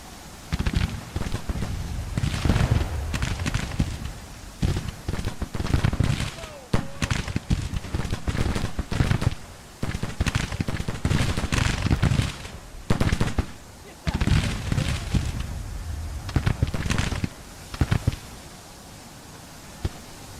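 Massed rifle volleys from Civil War troops in Grand Tactician: The Civil War, a dense rolling crackle of gunfire with dense bursts and brief lulls, loud and continuous across the battle.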